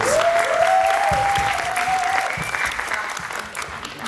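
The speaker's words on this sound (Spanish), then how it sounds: "Un fuerte aplauso, por favor" Audience applause at a Spanish-language panel discussion on indigenism, leftist politics and sexual diversity, steady and full at the start then gradually thinning, with a faint whistle-like tone and some murmuring mixed in.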